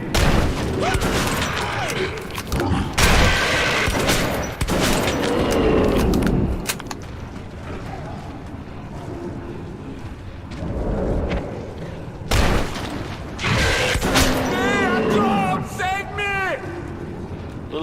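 Shotgun blasts in Metro 2033, several heavy booms and thuds spaced irregularly among pump clacks and combat noise, loud and close, with people talking over them.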